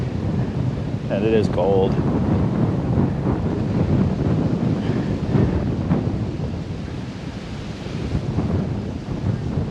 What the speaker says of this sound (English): the wind is blowing at about 40 miles an hour